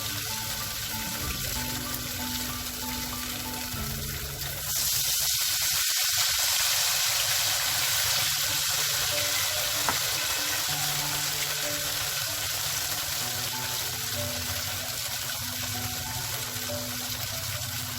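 Ghevar batter is poured a little at a time into hot ghee, raising a steady broadband hiss and sizzle that swells as the batter hits the fat and then holds, close and continuous with almost no talk.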